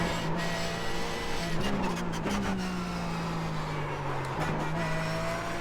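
A Porsche 911 GT3 Cup car in iRacing holds a steady, droning engine note that blips up on gear changes and slowly sags as revs fall, with faint tire noise running underneath.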